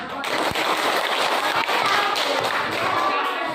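A primary school class claps hands together in a dense, loud burst of rapid, sharp claps that continues steadily throughout, with some voices mixed in.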